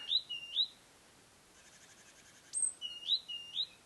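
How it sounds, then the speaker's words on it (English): Small birds near a bird feeder give bright, high chirps in short pairs, a pause, then a livelier run of calls, fairly close against a quiet outdoor background. "There are all these small birds here."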